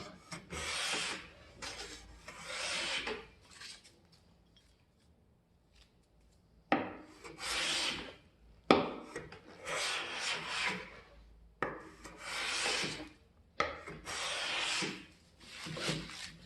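Hand plane shaving wood strips for a picture frame, its blade lowered and sole waxed, giving repeated long rasping strokes of one to two seconds each, close and fairly loud, with a short pause between passes.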